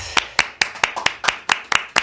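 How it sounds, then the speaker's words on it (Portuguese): Hands clapping in a steady, evenly spaced rhythm, about nine sharp claps in two seconds, close and fairly loud, more like a single person or a small group keeping time than a full audience. "Palmas para a Bia Menezes."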